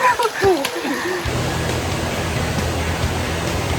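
The Yahe River rushes steadily nearby in the mountains during a hike, a dense continuous roar of flowing water that takes over after a brief moment of voices at the start.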